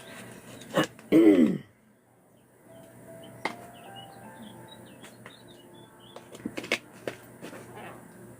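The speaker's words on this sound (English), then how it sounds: "I'm going to start coughing." A single throaty cough or throat clear near the start, followed by a quiet room with faint bird chirps and small clicks.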